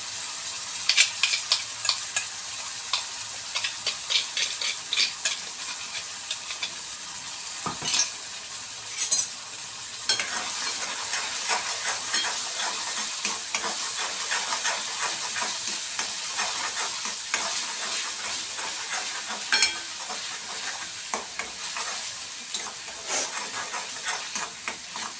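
Ground masala paste for paneer masala being stir-fried in a pan, a continuous soft sizzle broken by frequent spoon scrapes and stirring clicks, close and fairly even over a long stretch.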